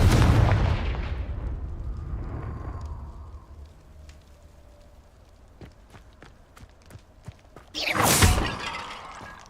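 Blasting spells go off in the Hogwarts Legacy video game as loud explosive bursts, with a heavy blast at the start, scattered sharp cracks and debris in between, and another big detonation near the end.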